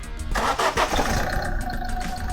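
A Citroen C3 with a 1.4 HDi diesel engine cranks and fires up close by, the starter's short whir giving way to a rough diesel idle.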